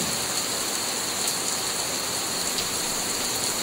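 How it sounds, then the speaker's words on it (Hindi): Steady rain falls throughout, an even broadband hiss close by with faint irregular drop spatter and no voices. "यहाँ तो बारिश हो रही है।"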